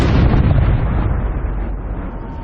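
Cannons bombard the walls of Constantinople in a sustained, heavy booming roar that starts loud and slowly rolls off into a dull rumble.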